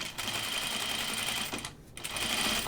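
A sewing machine runs steadily while stitching a tunic, a close, continuous mechanical whir that pauses briefly near the middle before carrying on.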